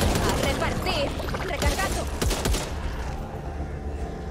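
Loud, close bursts of rapid gunfire in the video game Back 4 Blood crackle in quick succession, with voices mixed in.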